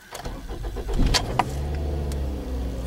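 A used car's engine starts with a short burst of starter cranking, catches, and settles straight into a low, steady idle, heard close and with no talking.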